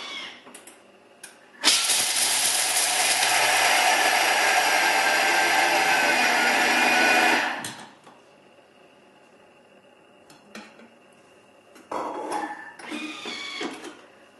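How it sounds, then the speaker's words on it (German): A Thermomix TM5 grinds nuts at speed 10. The blade roars into a loud, steady, high-pitched whir for about six seconds, then spins down and stops, leaving quiet bumps and brief talk. "Ich schalte jetzt auf Stufe 10. Das hört man meistens, wenn die gemahlen sind"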